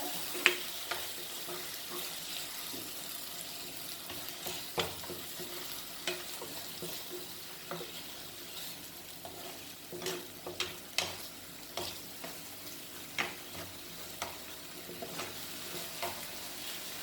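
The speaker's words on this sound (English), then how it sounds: "Mix this all together." A spoon stirs a spiced chicken xacuti kheema mixture in a hot pan. A soft sizzle runs throughout, with irregular scraping taps and clinks that grow busier toward the end.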